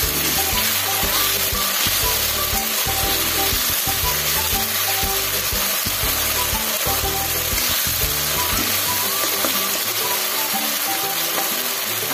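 Ginger garlic paste fries in a pan with onions for a spicy capsicum chicken dish, producing a loud, dense sizzle with the rough scraping of stirring. A low, steady hum runs underneath, and no one speaks.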